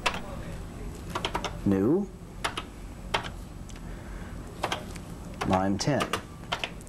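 Keys clatter on a Color Computer keyboard as a short program is typed in, brisk irregular clicks in clusters beneath a voice reading out program lines.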